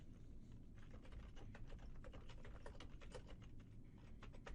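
Fingers tap rapidly on a computer keyboard while code is entered, a quick irregular patter of soft key clicks, close but faint over low background hum.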